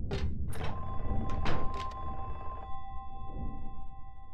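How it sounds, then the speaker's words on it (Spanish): A telephone rings in Silent Hill 3's hospital, a sustained electronic tone lasting a couple of seconds, mixed with a few heavy thuds and clunks at the start over a low, dark ambient rumble. "El teléfono sonando."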